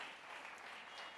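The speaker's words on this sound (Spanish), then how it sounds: "Dele un aplauso al Señor por esto." Brief burst of church congregation applause during a Spanish-language worship service, a dense, steady wash of clapping with no talk over it.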